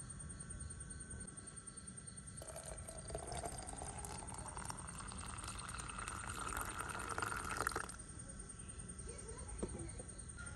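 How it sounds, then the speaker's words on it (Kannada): Water pours steadily into a mixer grinder jar while making mango juice, the stream's pitch rising over about five seconds as the jar fills, fairly faint against a quiet kitchen background. "ಈಗ ಇದೇ ಮಿಕ್ಸಿ ಜಾರಿಗೆ ಸ್ವಲ್ಪ ನೀರನ್ನ ಹಾಕಿ ಇನ್ನೂ 2 ಕಪ್ ನೀರು ಇದಕ್ಕೆ ಸೇರಿಸ್ತೇನೆ."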